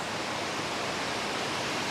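Inversnaid waterfall in Scotland gives a steady, dense roar of rushing water, broad and unbroken throughout, close and fairly loud with no voices.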